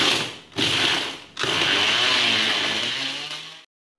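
A meat grinder churns meatball mixture for bakso, a loud steady grinding whir in two bursts, the first short and the second running about two seconds before stopping abruptly.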